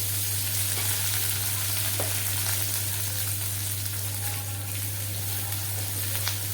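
Fennel seeds, cinnamon, onion and curry leaves fry in hot oil in a pan, giving a steady, loud, close sizzle that crackles on without a break and has no voices over it.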